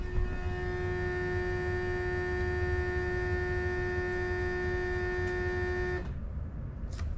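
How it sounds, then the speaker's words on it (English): An electric coolant pump on a BMW N54 single-turbo engine hums steadily with a high whine, then cuts off abruptly near the end, leaving faint background noise. "Just the coolant pump."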